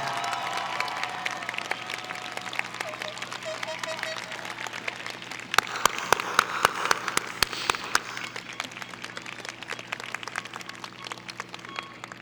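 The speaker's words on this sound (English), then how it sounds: "I think we all need to give him a round of applause" Applause from a high school graduation crowd for a retiring teacher, a moderate, continuous patter of clapping with a few sharper close claps and faint cheers over a steady low hum.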